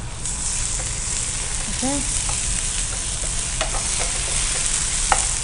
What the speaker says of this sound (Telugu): ఆ పచ్చివాసన అంతా పోయేంత వరకు ఫ్రై చేసుకున్నాం. జింజర్ గార్లిక్ పేస్ట్ కూడా.